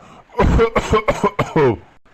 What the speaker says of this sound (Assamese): কাহটো ভালেই নোহোৱা হৈছে